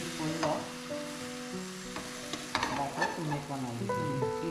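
Thin pancake batter sizzles and crackles steadily in a hot pan, with occasional stirring or scraping clinks, while music plays underneath throughout.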